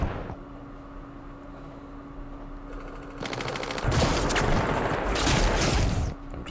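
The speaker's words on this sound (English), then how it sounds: "just randomly shooting at the platoons inside here" Machine-gun fire in the Vietnam War game Campaign Series Vietnam: after a quieter stretch, loud rapid bursts of automatic fire break out and rattle on for a few seconds before easing off, with no voices.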